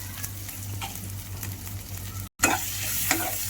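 Mashed raw banana vada mixture sizzles in a pan while being stirred, a close, steady frying hiss with repeated utensil scrapes, briefly cut by a moment of silence before the sizzle resumes louder.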